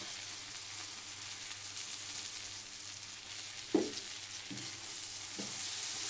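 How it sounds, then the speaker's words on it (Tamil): Mint and coriander leaves are stirred in a frying pan with chilli powder for mutton biryani, a soft steady sizzle broken by a few spoon scrapes and knocks; no talking. "அப்படியே கிண்டி கொடுப்போம்."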